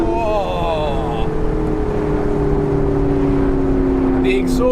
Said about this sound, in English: The exhaust, it sounds smoother, and there's no break of traction in the rear wheels like there is in the 570.